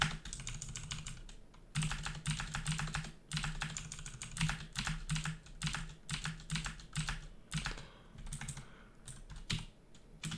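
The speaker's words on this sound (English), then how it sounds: "I was joking with people that this is now a keyboard ASMR stream" Computer keyboard typing runs in quick, uneven bursts of close, crisp key clicks with short pauses between flurries, played quietly with no voices.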